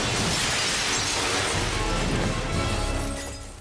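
Glass shatters loudly as Robin crashes through a window in a Batman cartoon, a dense, close burst of breaking shards that holds for a few seconds and then fades.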